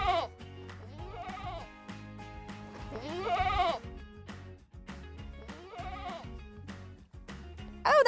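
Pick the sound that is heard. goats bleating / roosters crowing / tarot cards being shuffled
goats bleating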